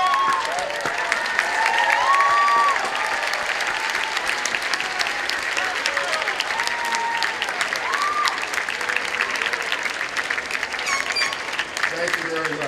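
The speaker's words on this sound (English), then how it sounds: "give them a big round of applause" A large crowd of relatives and friends applauds steadily throughout a university commencement ceremony for communication school graduates, dense clapping filling the hall, with some cheering and voices mixed in.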